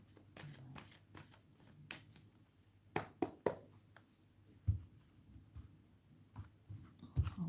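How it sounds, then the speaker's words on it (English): Tarot cards are shuffled close up in quiet riffles and soft slaps, a series of brief crisp bursts at an uneven rhythm. "I want you to see the cards, so let me shuffle it properly."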